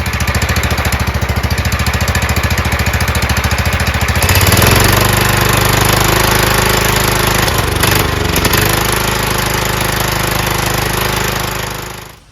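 Repowered John Deere LT160 lawn tractor with a Kohler engine and a new carburetor running loud and close, a steady rapid putter that shifts to a rougher, heavier drone midway before cutting off at the end.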